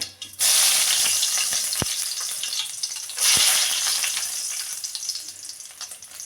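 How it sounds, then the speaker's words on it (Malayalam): Crushed garlic frying in hot oil for a homestyle beetroot rasam, a loud steady sizzle that flares up twice, with a couple of soft utensil knocks as it settles. "വെളുത്തുള്ളി ചതച്ചത് അതൊന്ന് മൂക്കട്ടെ"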